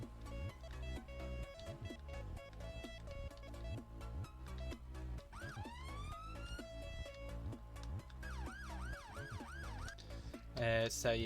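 Emergency vehicle sirens in the Roblox NorthWales game: a rising wail, then a run of fast repeated yelping sweeps, heard over a steady, busy tonal backdrop.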